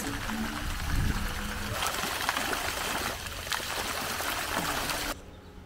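Dancing fountains splashing in the gardens of Villa Rothschild at Cap Ferrat, a continuous rushing spray of water with faint background sounds, cutting off near the end.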